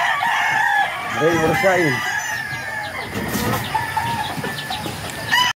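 Pet chickens cluck nearby while a rooster crows out, with a voice speaking briefly over the steady background of the yard.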